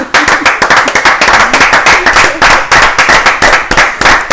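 Studio audience applauding on a French-language TV talk show, a loud, steady wash of many hands clapping with sharp irregular hits, sustained throughout.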